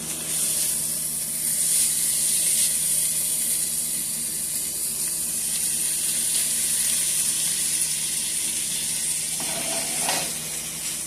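Ground turkey meatballs frying in a pan give a steady, close sizzle that runs continuously throughout, with a few faint scrapes and clicks as they are turned near the end.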